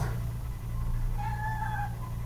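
A cat gives a single short meow in the video game Ruby Quest, faint and rising over a low, steady background hum.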